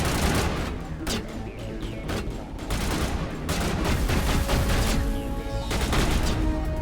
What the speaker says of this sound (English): Biotic explosion.